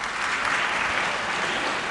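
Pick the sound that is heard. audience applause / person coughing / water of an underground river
audience applause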